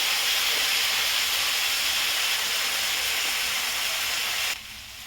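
A steady, loud hiss comes from a pan of ground onion paste and spices frying with jackfruit and chana dal. It holds constant for several seconds and then drops sharply in level near the end.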